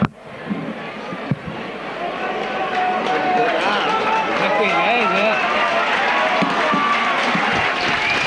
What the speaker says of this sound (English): And just listen to this crowd here at Post Office Road.